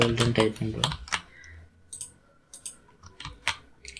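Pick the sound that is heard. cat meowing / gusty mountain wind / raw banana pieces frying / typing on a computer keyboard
typing on a computer keyboard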